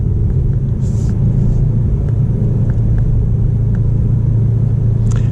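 Mercedes E63S AMG with ceramic brakes being driven, its deep, steady engine and road rumble heard from inside the cabin, with a few faint clicks and brief higher hisses.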